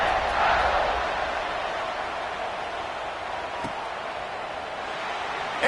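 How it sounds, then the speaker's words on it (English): A football stadium crowd buzzes in a steady, dense roar that peaks briefly at the start and then holds at an even level, with no clear talk above it. "this crowd is buzzing after that last score"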